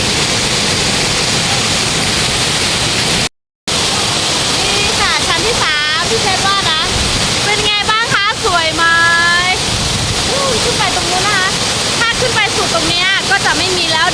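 A loud, continuous waterfall at Mai Kai falls rushes throughout, broken by a brief cut, while voices talk over the roar.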